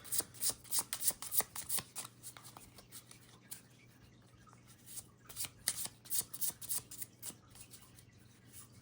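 A deck of cards being shuffled in repeated crisp riffles and flutters, close and fairly quiet, with bursts clustered at the start and again later over a low steady hum; no talking.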